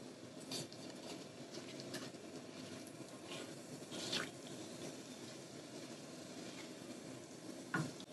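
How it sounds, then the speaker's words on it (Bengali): A bay leaf, two dried red chillies and cumin seeds start tempering in oil that is only just warming in a pan, a faint, steady low sizzle with soft stirring scrapes and occasional small pops, no voices. "আমি এখানে নিয়েছি একটা তেজপাতা, দুটি শুকনো মরিচ, একটু জিরা। এটা দিয়ে আমি ফোড়ন দিয়ে দিব।"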